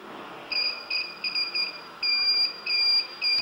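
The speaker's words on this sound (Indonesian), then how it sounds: "nah itu bunyi seperti multitester" A high electronic buzzer on a homemade wire continuity tester beeps in irregular bursts, short and longer tones repeating over a faint background hiss.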